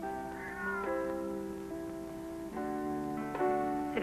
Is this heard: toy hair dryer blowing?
no